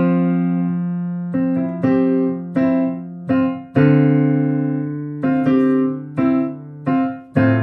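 A piano plays a slow phrase of a song, a dozen or so clear, sustained notes and chords struck one after another and left ringing, close and alone with no talking.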